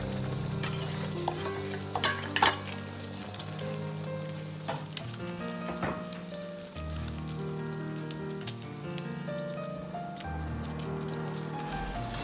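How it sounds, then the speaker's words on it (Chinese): Beaten eggs frying in scallion oil in a wok over medium heat give a steady close sizzle that runs through the clip beneath continuous background music, with no one speaking. "接着保持中火倒入鸡蛋液"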